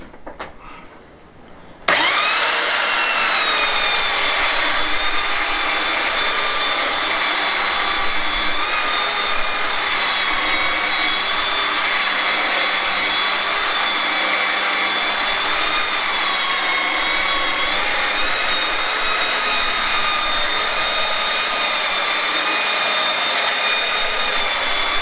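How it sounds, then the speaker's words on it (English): A belt sander fitted with a brand new belt grinds across an old courtyard surface. It starts after a brief quiet moment, then runs as a loud, steady, whining roar that holds without a break. "I'm going to start off with the belt sander."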